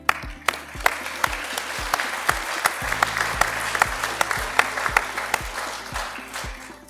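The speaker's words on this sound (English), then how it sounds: "give them a round of applause for what they've done to get you here to this moment" Audience applause at an EMT graduation ceremony, a crowd clapping steadily with sharp individual claps standing out and a low hum underneath, sustained for several seconds.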